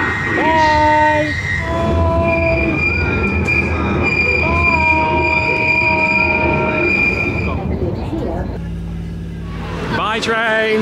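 A London train pulls out of the station, its wheels squealing in sustained high tonal whines over a rumbling carriage roar, with people talking nearby and the squeal rising again at the end.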